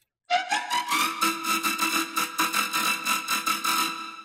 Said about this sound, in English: I just took the flute sample and put it in syrup and just tweaked some knob